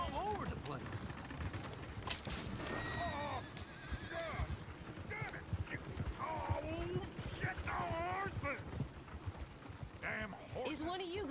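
A horse in the video game Red Dead Redemption neighs and whinnies repeatedly while hooves clip-clop, with a stagecoach moving about and voices talking throughout the busy mix.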